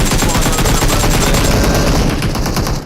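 Loud, rapid bursts of automatic gunfire during a PUBG Mobile esports match, with dense overlapping shots rattling continuously and close for about three seconds.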